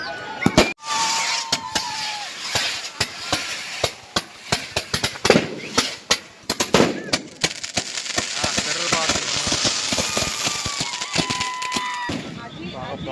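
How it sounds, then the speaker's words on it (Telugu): Firecrackers burst inside a burning Ravana effigy at a Dussehra celebration, a rapid irregular volley of loud sharp cracks and bangs followed by lingering crackle and crowd noise, with people talking throughout. "బాంబు ఉంది కదా, పెద్ద 2-3 కిలోమీటర్ సౌండ్ వినిపిస్తుంది."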